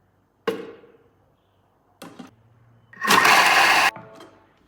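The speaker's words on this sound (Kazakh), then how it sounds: "Чашаға жуа, сәбіз, сарымсақ қосып майдалаймыз" A Thermomix blade whirs through onion, carrot and garlic in its bowl: two short chopping bursts that fade, then a louder, sustained roar of about a second before it cuts off.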